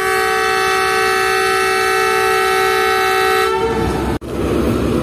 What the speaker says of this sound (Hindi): ठीक 9:12 पर ट्रेन ने अपना फर्स्ट डिपार्टिंग में से ले लिया है हैदराबाद से चलने के लिए